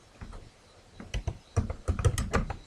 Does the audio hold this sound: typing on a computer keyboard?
yes